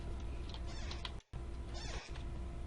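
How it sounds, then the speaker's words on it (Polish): In the horror video game Pacify, a cat climbing up a leg meows faintly and briefly under a constant noisy background, with a short dropout in the middle. "A! Kot mi się wdrapuje po nodze."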